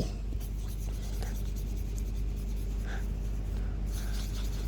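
A coloring tool rubs steadily across paper while the large mouth of a Garten of Banban character is filled in, a continuous close scratchy scribbling with faint quiet speech in the background.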